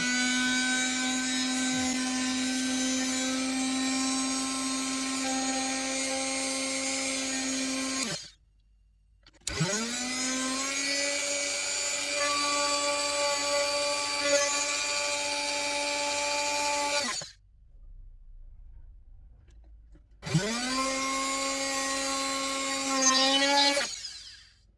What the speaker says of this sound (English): now we're going to go back to a different drill bit just to tidy up those edges